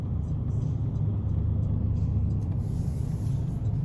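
A car drives slowly through the Nicaragua–Costa Rica border crossing, its steady low engine rumble and road noise filling the cabin at moderate level without any talk.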